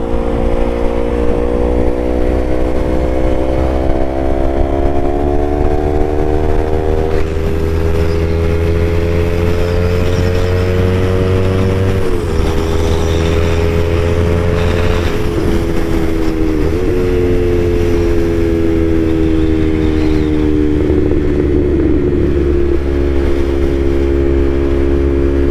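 Yamaha R3 streetfighter motorcycle with an M4 full exhaust, riding on a highway: a steady, loud engine drone that shifts pitch with throttle changes, with brief breaks in the tone where crackles or pops may occur. No voices.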